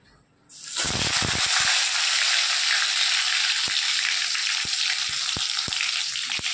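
Raw potatoes hit a wok with only a little oil and burst into a loud, steady hiss of frying that holds throughout, with a few sharp spatters and pops breaking through.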